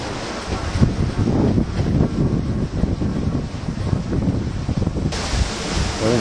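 Strong ocean wind at 20-22 knots roars over a sailboat on a beam reach during an Atlantic crossing, a loud, steady gusting rush with deep low rumble and wave wash, no voices.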